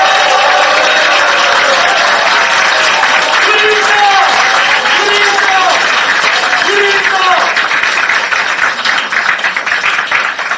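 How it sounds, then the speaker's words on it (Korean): A crowd applauds at a Korean political campaign rally for a district mayor by-election. Loud, continuous clapping fills the clip, mixed with crowd noise and amplified voices. "뜨거운 박수 부탁드리겠습니다."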